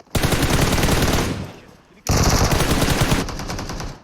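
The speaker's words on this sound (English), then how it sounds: "He's getting shot from the backside by Leeds United." Rapid automatic gunfire from the PUBG Mobile battle royale game crackles loud and close in two long sustained bursts separated by a brief lull.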